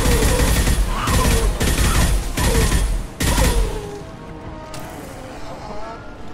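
Rapid bursts of rifle gunfire from the video game Mass Effect 2 fire in four or five loud, closely spaced volleys over the first three seconds, then give way to quieter game ambience and scattered effects.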